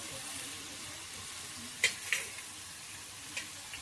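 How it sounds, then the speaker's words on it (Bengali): Potatoes and banana flower frying together in a pan, a faint steady sizzle with a few sharp pops and stirring clicks near the middle, no talk over it. "আলু মোচা সব একসাথে দিয়ে দিলাম, দিয়ে ভালো করে মশলাটাকে ইয়ে করব।"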